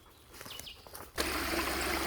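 Small waterfalls trickle through a buggy woodland creek, a soft steady splash that starts faint with a few bird chirps, then jumps abruptly to a louder, close, continuous rush of falling water.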